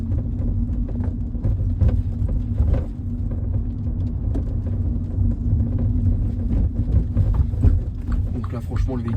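A 136 hp Mini Cooper DCT7 Greenwich edition drives over speed bumps, with a continuous low road rumble and scattered thumps and knocks from the suspension, heard from inside the car.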